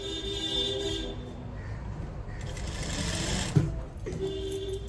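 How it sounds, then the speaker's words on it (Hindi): A sewing machine stitches a suit seam with a steady whirring buzz, close and continuous, with a brief clunk near the end as the motor briefly pauses and restarts. "तो यहीं से सिलाई लगाना स्टार्ट करते हैं।"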